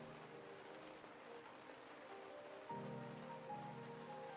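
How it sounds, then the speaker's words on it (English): Soft, steady rain patter in the video game Autumn Spirit at very low volume, with a faint tonal hum joining partway through. "it's definitely raining in the game"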